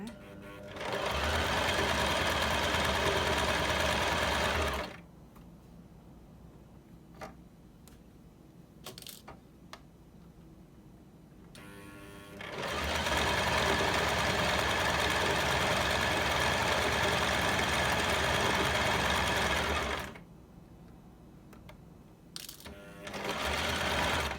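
ZEN ZN1101 sewing machine stitching elastic with a zigzag stitch, running in two long loud bursts of rapid mechanical whirring separated by quiet pauses with small clicks and fabric handling.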